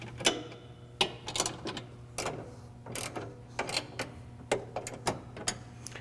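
Ratcheting clicks from tightening LED light bar mounts on a lower bumper, a run of sharp, close mechanical ticks at irregular intervals over a steady low hum.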